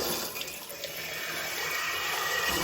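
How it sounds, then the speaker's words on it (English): Water rushes steadily through a concealed shower valve under repair, a loud, continuous hiss and splash heard up close with no talking. "Get some hot water running."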